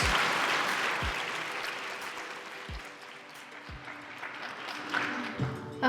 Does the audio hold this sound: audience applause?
yes